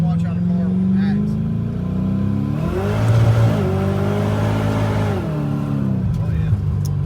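A supercharged Vortech T-Trim Ford 306 engine with an AOD automatic hums steadily, then rises in pitch as it accelerates at half throttle and settles again, heard from close by.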